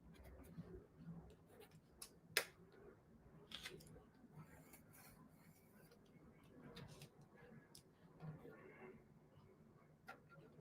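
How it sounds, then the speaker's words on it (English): Pencil tracing around a die on paper for card making, faint scratchy scraping with occasional sharper clicks and rustles, quiet and close. "Then I'm going to trace around it with my pencil."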